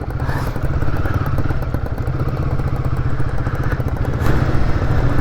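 Two-stroke scooter engine running steadily close by, a busy rattling putter with some clatter and a slight swell near the end, no talking.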